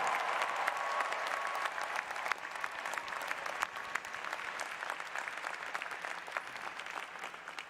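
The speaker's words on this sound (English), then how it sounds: "give your parents, families, loved ones, and friends a round of applause" A commencement crowd at Emerson College's 2023 graduation applauds families and loved ones, with broad, steady clapping that sounds moderately distant and continuous throughout.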